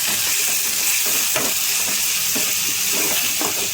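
Asafoetida sizzling in hot oil for a spicy sprouted moong misal, a steady loud frying hiss running throughout with faint stirring clicks and no voices.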